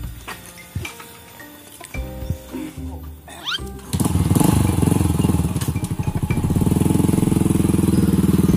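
A motorcycle engine in a Sundanese comedy short film idles with scattered clatter and clicks, then roars up into loud, sustained revving that drops briefly and then rises again toward the end.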